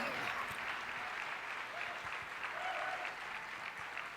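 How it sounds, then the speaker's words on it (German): An audience applauds at the Google Stadia keynote, with steady sustained clapping from a large crowd that holds at an even level throughout and has no talk over it. "Warum klatschen die?"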